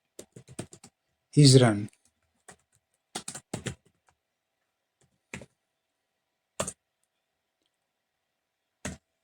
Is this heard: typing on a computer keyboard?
yes